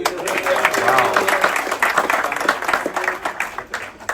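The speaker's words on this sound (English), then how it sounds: "So in your applause, our breakfast cook Rido" Passengers on a ship applaud the breakfast cook, a dense, moderately loud patter of many hands with voices mixed underneath, holding steady throughout.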